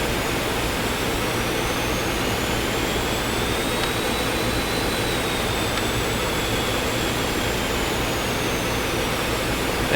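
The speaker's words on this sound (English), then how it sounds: "maxing the throttles out pretty hard doing this" Jet engines at full throttle in the X-Plane 11 flight simulator, a loud, continuous roar with a high whine that holds steady and slowly shifts pitch, heard alone without talk.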